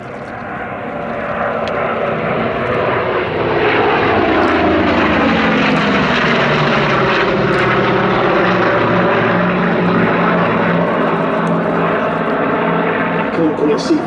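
Propeller aircraft totalling 6,000 horsepower roar past from left to right at an airshow, the loud engine drone swelling and holding with a sweeping pitch change as they go by; a commentator talks over it.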